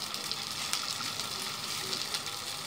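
Masala-stuffed chillies fry in a pan with a steady, moderate sizzle and crackle, heard close and continuous with no talk.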